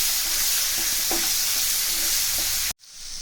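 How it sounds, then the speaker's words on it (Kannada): Ginger garlic paste frying in a pan, a close, steady sizzle with a few faint utensil clinks, cutting off abruptly near the end. "ಶುಂಠಿ ಬೆಳ್ಳುಳ್ಳಿ ಪೇಸ್ಟ್ ಹಾಕಿದ್ರಲ್ವ, ಸೊ ಇದನ್ನು ಸ್ವಲ್ಪ ಫ್ರೈ ಮಾಡ್ಕೋಬೇಕು ಚೆನ್ನಾಗಿ."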